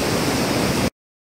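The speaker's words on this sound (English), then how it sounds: "This leads to this waterfall." Steady broadband rush of a waterfall on the Ghorepani trek in Nepal, close and continuous with no break in its roar, cutting off abruptly before the end.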